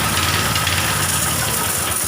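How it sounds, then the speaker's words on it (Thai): Four-stroke 7 hp engine on a used Japanese Maruyama 1.2-inch high-pressure sprayer pump, idling steadily with a close, continuous low hum and vibrating knock, no talk. "แต่เรื่องเครื่องยนต์สตาร์ทง่ายแน่มากเลย และเครื่องแน่น"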